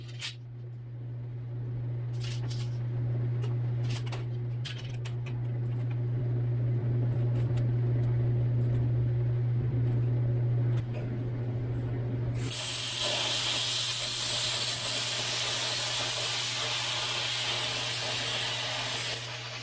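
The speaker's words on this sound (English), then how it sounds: "fire up the plasma, and we're going to cut ourselves a 34-inch by 48-inch chunk of this 14 gauge" Plasma cutter slicing through 14 gauge sheet steel: a steady loud hiss over a low hum, with brief clicks at the start, turning into a much brighter, harsher roaring hiss about two-thirds of the way through.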